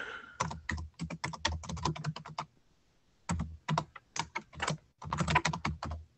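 Rapid clattery typing on a computer keyboard, close and clear, comes in dense bursts of keystrokes separated by a pause of about a second.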